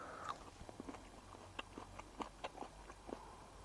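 Close, crisp crunches from biting and chewing a crunchy Kishmish Flagman table grape, several sharp bites and chews spread irregularly over a few seconds with no talk.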